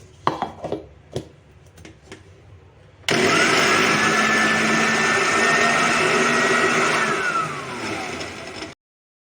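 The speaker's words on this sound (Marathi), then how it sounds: "आता खोबरं व सर्व मसाले मिक्सरमध्ये बारीक करून घेऊ" After a few light knocks, a mixer grinder grinding coconut and spices starts up and runs loudly and steadily for several seconds, then cuts off abruptly.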